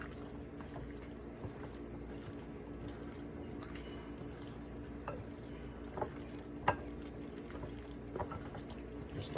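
Chicken and Italian sausage being stirred together for grilling, a soft, continuous wet mixing and squishing with occasional sharper clicks, fairly quiet and without speech.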